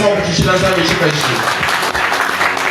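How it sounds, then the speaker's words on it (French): A church congregation applauding and cheering during a sermon, a dense, sustained wash of clapping with crowd voices mixed in, loud and continuous throughout. "Est-ce que tu peux acclamer?"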